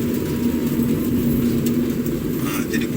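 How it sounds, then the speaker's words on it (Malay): Inside a 2020 Nissan Almera 1.0-litre turbo cruising at about 2,500 RPM, a steady low rumble of tyre noise outweighs a faint engine hum, with a voice talking over it. "Jadi bunyi tayar lebih kuat daripada bunyi enjin."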